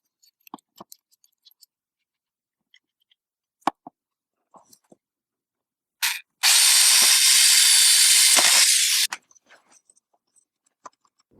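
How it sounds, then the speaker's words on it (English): A power drill bores a single mounting hole through a metal base plate, running as one loud, steady whine for about three seconds between faint clicks and handling taps. "And I'm going to drill one hole and one hole only."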